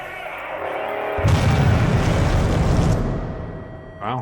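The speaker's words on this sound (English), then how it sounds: "everything was really quiet up until that ear-shattering explosion" A loud, deep explosion in a video game erupts suddenly and rumbles on for a couple of seconds before fading, with a brief voice-like warble at the end.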